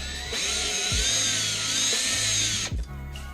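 A power screwdriver with a T15 bit spins steadily, backing out screws from LED headlight parts, a close, loud whirring that runs for a couple of seconds before stopping.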